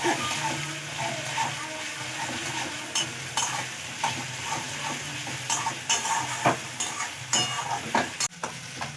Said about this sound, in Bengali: রসুন আর পেঁয়াজ একসঙ্গে ভালো করে ভেজে নেব